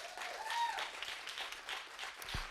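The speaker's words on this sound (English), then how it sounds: "Applaud everybody who's been up here so far." An audience at a business conference applauds, a soft, steady wash of many hands clapping at a distance, fairly faint and continuous throughout.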